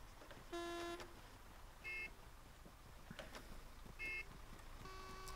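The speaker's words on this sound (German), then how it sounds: "Bitte nicht hupen, die Herren, bitte nicht hupen" Car horns honk in short bursts at irregular intervals during a long convoy in the video game Arma 3, several separate blasts over a low rumbling traffic background.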